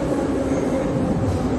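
A metro train in Belarus rumbles steadily, a continuous loud low roar of rolling wheels and carriage noise with no voices.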